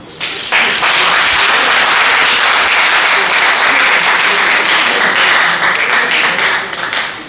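Loud, close audience applause at a peace tour event on security forces, a dense burst of many hands clapping that swells quickly and holds for several seconds before easing.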